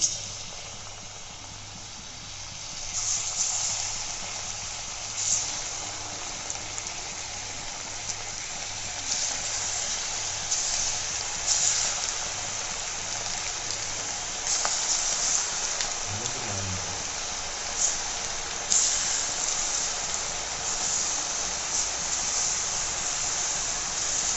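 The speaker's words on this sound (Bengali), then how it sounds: "সবগুলো দেওয়া হয়ে গেছে, এখন এগুলো লাল হওয়া পর্যন্ত আমি ভাজবো।" Cut potatoes and egg fries deep frying in hot oil, giving a steady, even sizzling hiss throughout, with faint crackles and a few small clatters nearby.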